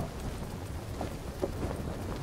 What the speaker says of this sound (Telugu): వర్షం పడుతుంది బ్రో.